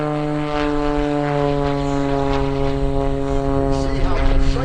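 The propeller engine of a Cap 580 aerobatic airplane drones loudly and steadily through its rolls at an airshow, with a rich harmonic buzz that shifts slightly in pitch as the plane maneuvers.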